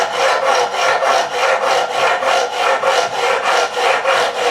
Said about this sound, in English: now I'm doing longer strokes, just checking that everything is being filed and smoothed off